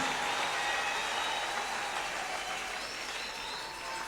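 A church congregation applauding and acclaiming the Lord during a celebration, dense steady clapping filling the room for the whole stretch, loud and close, with no voices standing out.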